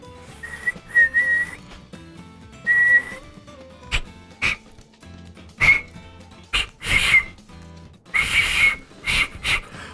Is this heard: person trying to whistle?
yes